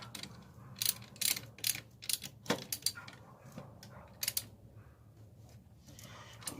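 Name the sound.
tightening the alternator nut on a Chevy Blazer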